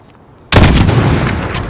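A single loud sniper rifle shot fired in Call of Duty Modern Warfare, an abrupt close blast after a quiet lead-in, with a long rumbling tail and scattered echoes trailing off.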